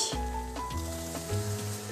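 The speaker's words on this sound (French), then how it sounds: "dans de l'huile très très chaude à friture, vous les mettez." Marinated tofu frying in very hot oil, a close steady sizzle and crackle with faint clinks, continuous and moderately loud.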